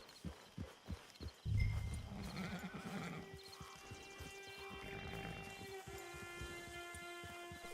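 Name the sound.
horse in a video game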